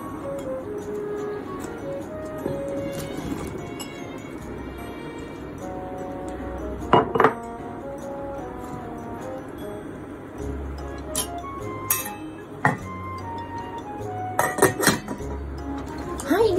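A pot and dishes clink and clatter as cauliflower is set to boil, with scattered metallic knocks and a few sharp clusters of clinks over a low steady kitchen background.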